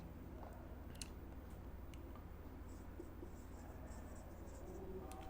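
Pen writing answers on paper while solving a practice exam question: faint, steady scratching and small ticks of the tip, close but very quiet over a constant low hum, with no one talking.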